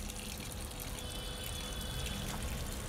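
A Panasonic fully automatic top-load washing machine fills with water, a steady broadband rushing hiss that stays even and close for the whole short stretch.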